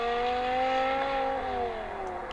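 A petrol car engine revs with a sustained, rising then falling droning tone, fairly close and loud, with the pitch dipping toward the end.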